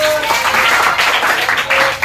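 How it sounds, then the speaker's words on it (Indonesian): Students in an elementary classroom give loud, continuous applause, a dense wash of many hands clapping close by with slight swells throughout. "ini tepuk tangan kita"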